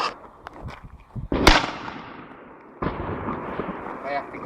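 Fireworks in Finland: a sharp, loud close blast followed by a long fading crackle and rumble, then a second weaker bang, with some faint voices around it.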